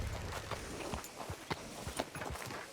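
Horse hooves clip-clopping at a slow walk in Red Dead Redemption 2, a few soft, evenly spaced hoof falls, faint and close, with no talk.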